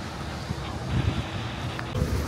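Gusty outdoor wind in Portland, Maine buffets the microphone with low rumbling bursts and a steady roar, no voices present.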